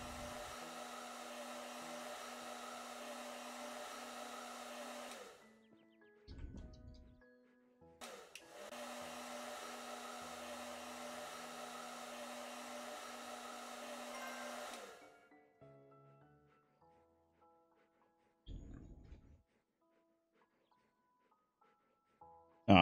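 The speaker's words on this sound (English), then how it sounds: "Blow dry dog now." In a pet shelter simulation game, a hair dryer blows on a dog in two steady, whirring bursts of about five and seven seconds, with quiet clicks and pauses between them.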